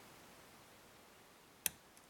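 A single sharp, faint click comes from a pin inside a six-pin tumbler lock being picked, an isolated tick over a quiet background with a tiny echo just after.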